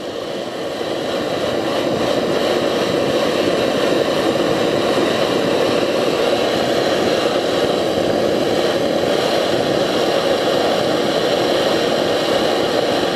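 A blowtorch flame heats a lambda oxygen sensor, a steady, loud roaring hiss that starts within the first second and holds evenly throughout, close by with no talk.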